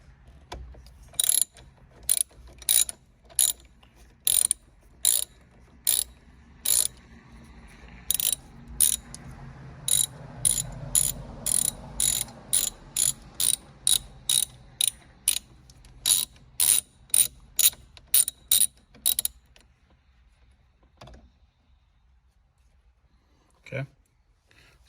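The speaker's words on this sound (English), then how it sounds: "Now we're gonna use our T40s to remove these two bolts here." A ratchet fitted with a T40 bit removes the steering wheel bolts on a GTR, giving a long run of sharp, evenly spaced clicks close by before a few last scattered ticks.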